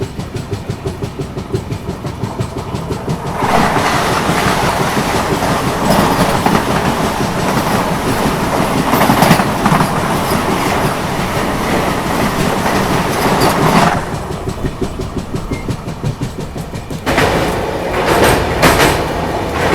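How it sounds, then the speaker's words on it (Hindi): A Varanasi–New Delhi Vande Bharat Express rushes past close by, a loud steady roar with rapid clickety-clack of wheels on rails, swelling for several seconds and then easing. "अब बगल से क्रॉस हो रही है वाराणसी नई दिल्ली वंदे भारत एक्सप्रेस।"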